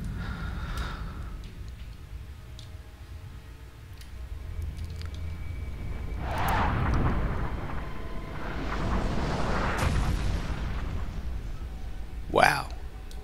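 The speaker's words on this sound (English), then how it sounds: "Big meteor explosion impact looking thing." A meteor-like explosion and impact in the intro cutscene of the X-Com Reimagined video game, a deep rumbling blast swelling midway with a sustained roar, then a sharp whooshing burst near the end, under soft background score.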